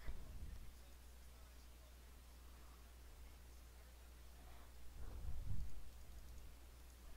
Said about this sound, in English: Let's make it rain.